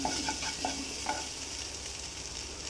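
Fish curry powder frying lightly in a pan, a steady soft sizzle with a few stirring scrapes near the start, fairly quiet and without speech.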